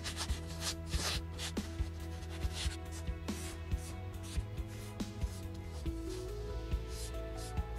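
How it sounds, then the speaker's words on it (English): 1500 grit sandpaper rubs over the painted frame of a retro Specialized mountain bike during wet sanding, a faint, steady scrubbing with soft periodic strokes and no talking. "I was using 1500 grit to wet sand it just to smoothen it off."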